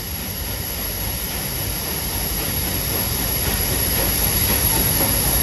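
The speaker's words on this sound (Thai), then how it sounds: "ขบวน 901 ออกจากสถานีรังสิต" A steam locomotive hauls special train 901 out of Rangsit station in Thailand, a continuous loud roar and hiss that grows slightly stronger, with no voices.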